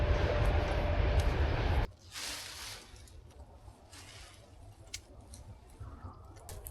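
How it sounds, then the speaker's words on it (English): A freight train passes by Lake Baikal in Russia, a loud, dense rumbling roar that cuts off abruptly after about two seconds and leaves quiet outdoor ambience with faint rustles. "I'm gonna have a loud night because of the constant freight trains passing through here"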